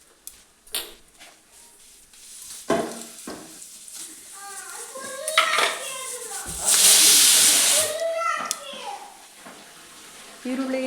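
Mustard seeds, chana dal and urad dal hit hot oil in a pan and sizzle, with a loud hissing burst building midway. Scattered crackles run under a voice.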